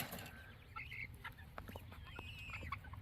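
Wyandotte chickens eating a treat make soft, close clucks and short chirps, a busy cluster of quiet bird calls with no talking.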